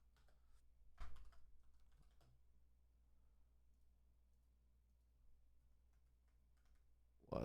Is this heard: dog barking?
no